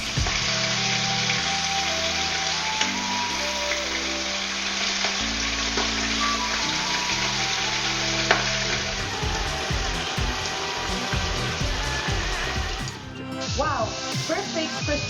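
Frog legs frying over an open fire, a steady dense sizzle and crackle of hot fat running throughout at close range, with small spits and pops growing busier toward the end.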